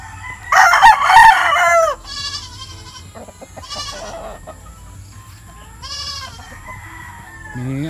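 Game farm hens and roosters on a hillside farm in Montalban, Rizal: a loud rooster crow up close, followed by several shorter crows and clucks, with a low murmur of background noise.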